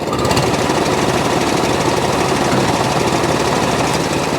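An Atco Balmoral cylinder mower's small engine runs steadily off choke with the cutting cylinder turning. It makes a loud, fast, even chattering putter that holds constant throughout with no talk.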